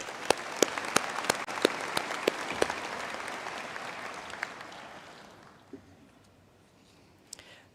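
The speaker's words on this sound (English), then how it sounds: "another round of applause" A graduation audience claps in a large hall, a dense burst of applause with sharp individual claps that gradually thins and fades to a few scattered claps.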